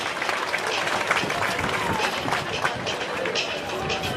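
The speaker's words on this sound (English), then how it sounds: "Let's have a nice round of applause for senior parents for the Chestnut Ridge Lions" A stadium crowd at a Chestnut Ridge Lions at Richland Rams high school football senior night applauds the seniors' parents, steady dense clapping and cheering that holds even throughout, with crowd noise mixed in.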